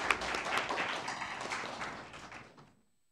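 An audience at a youth mock city council session in Gimhae applauds. The crowd clapping is moderately distant and fades out over about three seconds.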